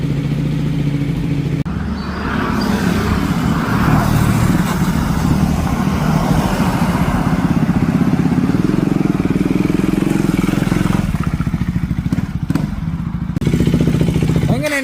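A rebuilt KTM 390 motorcycle engine runs loud and close on a first ride, a steady rasping drone that revs and clatters for most of the stretch, with speech heard over it.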